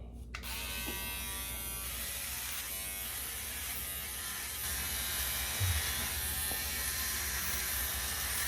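Philips Norelco OneBlade electric shaver trimming a mustache, a steady close buzzing hum that runs without a break, its pitch shifting slightly as the blade moves over the hair.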